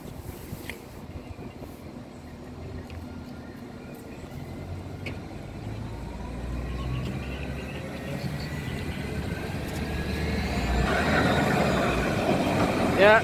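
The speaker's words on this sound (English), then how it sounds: "Yeah, there's tram." A tram passes in Nottingham with a low rolling rumble that builds steadily to a louder, closer roar near the end. Faint talk sits in the background.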